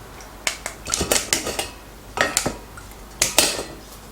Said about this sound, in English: Once the noodle has cooled down, remove it and drain.